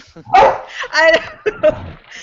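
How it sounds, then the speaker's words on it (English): Several dogs bark and yip excitedly at close range in short, overlapping bursts, some whimpering tones mixed in, with a busy, noisy indoor feel. "My dogs are freaking out."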